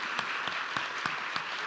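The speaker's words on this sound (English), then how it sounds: "I just want to give a round of applause for all of these moms here for their courage." Audience applause at a political town hall in Pennsylvania, a continuous close wash of clapping with a few sharper individual claps standing out at regular intervals.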